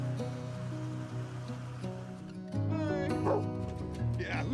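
A pet dog named Roxy aboard a sailing boat in the Pacific gives short yips and whimpers over a constant hum and the wash of the sea, with a person's voice speaking briefly near the start.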